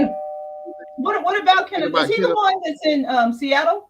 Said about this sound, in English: I think that's my doorbell.